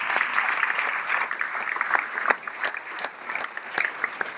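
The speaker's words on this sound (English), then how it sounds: "How about another round of applause for all the winners tonight?" Dinner audience at a chamber of commerce annual banquet in Marion, Illinois, applauding the evening's winners; steady dense clapping fills the room throughout, with a few sharper individual claps standing out.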